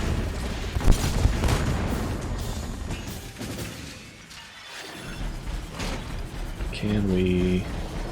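Bursts of gunfire and blasts from the video game Iron Brigade, crackling and booming over continuous talk, with a louder burst of explosions near the end.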